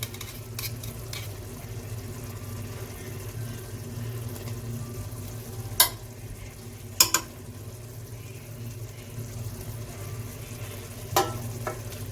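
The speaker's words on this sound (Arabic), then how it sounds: "وغادي نهرس عليها البيض ونبقى نحرك مزيان" Eggs stirred into cooked chicken in a pan for Moroccan chicken briouats, with a steady low simmering hiss and a few sharp utensil clinks against the pan.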